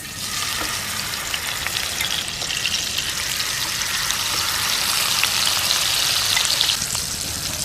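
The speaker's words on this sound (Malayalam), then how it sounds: "ഇനി അടുത്തത് വറക്കാൻ വയ്ക്കാം" Seer fish (neymeen) pieces frying in hot oil in a pan, a steady close sizzle with crackling pops that holds evenly and grows slightly louder toward the end, with no talking.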